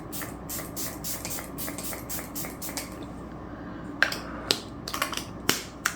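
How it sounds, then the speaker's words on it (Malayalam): Swiss Beauty makeup setting spray gives a run of short, quick hissing spritzes at close range, followed by a few sharper clicks and taps of the bottle. "എന്നിട്ട് ഫസ്റ്റ് ഒന്ന് പുറത്തോട്ടൊന്ന് സ്പ്രേ ചെയ്തതിന് ശേഷം"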